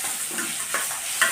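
A grated raw mango and rice mixture for mango pulihora is stirred in a pan, giving a brief soft sizzle with light scraping of the spoon, close and with no voices.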